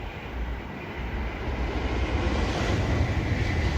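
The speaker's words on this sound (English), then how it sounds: "And the train that left Okayama Station is now headed this way." A Shinkansen Nozomi bullet train approaches near Okayama Station as a steady, broad rumbling roar that slowly grows louder over several seconds, with no voices over it.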